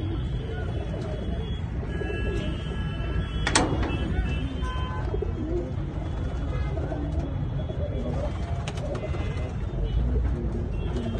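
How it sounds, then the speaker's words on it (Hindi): Soft pigeon coos murmur continuously in a pigeon loft in Delhi beneath a steady, noisy background, with a couple of brief sharp knocks mid-way; birds sound close, as in an enclosed space. "सबसे बड़ा कबूतर"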